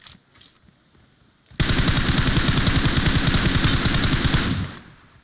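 Video game gunfire from a bridge ambush in a battle-royale match: after a quiet start, a loud sustained burst of rapid automatic fire rattles for about three seconds and then cuts off.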